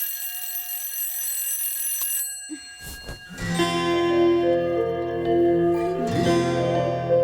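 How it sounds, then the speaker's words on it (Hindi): An alarm clock rings loudly and continuously in a home, a steady shrill tone persisting for several seconds, joined midway by louder mixed background sound. "ए भाई, ये अलार्म अपनी बेटी को उठाने के लिए लगाया है या पूरे मोहल्ले को?"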